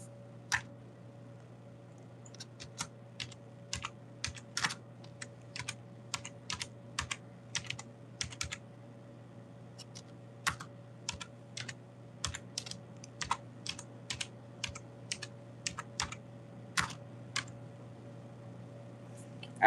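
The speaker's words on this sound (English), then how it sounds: "time to go on my keyboard, which actually is plugged in, and type in." Steady, quick keystrokes clatter on a netbook keyboard in irregular bursts over a low constant hum, with no talking.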